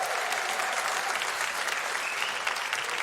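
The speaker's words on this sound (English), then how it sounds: "The applause of people who don't have to live with me there." Audience applause fills a stand-up comedy show, a dense, steady roar of clapping from a large crowd that holds at an even level for about three seconds.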